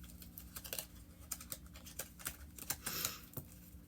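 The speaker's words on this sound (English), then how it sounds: "These miniature cards are a little hard to shuffle sometimes." Miniature tarot cards being shuffled, with quick irregular riffling and flicking clicks close up, pausing briefly then resuming in short bursts.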